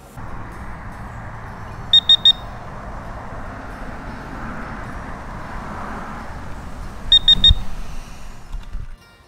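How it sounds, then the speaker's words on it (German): Garrett Pro-Pointer AT pinpointer sounding its lost-device alarm: two short clusters of three quick high-pitched beeps, several seconds apart, over steady background noise. "ich habe nämlich eine Verloren-Funktion, das heißt, nach 5 Minuten fängt er an zu piepen"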